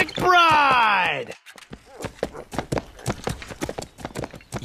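A horse walks with steady clip-clop hooves, close and distinct, while a rider rides; a voice sings or groans a long drawn-out tone over the opening second before the hoofbeats continue alone.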